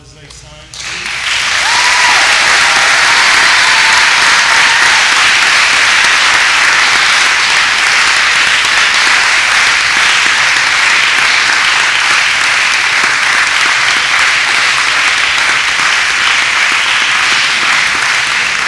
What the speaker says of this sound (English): let's give them a round of applause as they